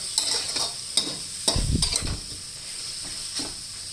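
Pork is stirred with noodles and egg in a frying pan for a stir-fry, a few sharp spatula scrapes and clinks over a soft, steady sizzle, close by, with no one talking.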